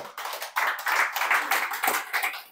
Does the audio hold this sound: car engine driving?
no